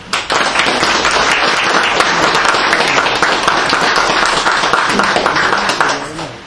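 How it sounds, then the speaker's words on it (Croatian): A hall full of people gives sustained, loud applause at a literary evening honouring the writer Jovan Radulović, dense clapping close by that keeps an even level before fading at the end. "Molim vas da Jovana Radulovića pozdravimo jednim bratskim aplauzom"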